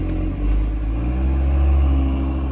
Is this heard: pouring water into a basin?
no